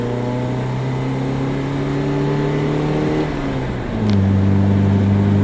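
A Volvo car engine running on only one fuel pump revs steadily, its tone rising slowly, then dips and settles at a lower, louder pitch, close and continuous with no talk.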